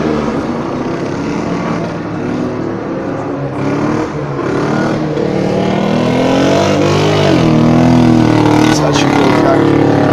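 A Giannini car engine revs loudly and steadily throughout, rising in pitch toward the end, with crowd or ambient noise mixed in at an outdoor motorsport celebration.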